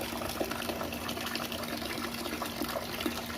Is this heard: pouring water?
yes